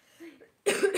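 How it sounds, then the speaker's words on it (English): A single sharp, close cough bursts out after a quiet moment, preceded by a faint throat sound, during an informal live chat session. "sorry, I've still got a bit of a cough"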